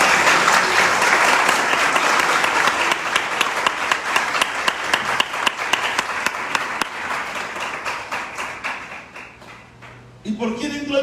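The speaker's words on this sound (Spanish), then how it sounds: "Por eso un aplauso a Dios por Jesucristo." A congregation at a Spanish-language church service bursts into loud, sustained applause with scattered sharp claps, thinning out toward the end before a voice briefly resumes.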